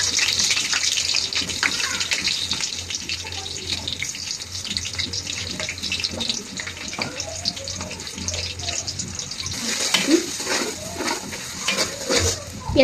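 Rice being washed in water in a home kitchen: a continuous rush of running water with splashing and churning underneath, close and fairly loud, while voices talk faintly in the background.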